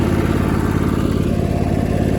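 An old Craftsman riding mower from a junkyard tries to start, its engine producing a loud, continuous, rough chugging rumble that holds steady throughout with no voices over it.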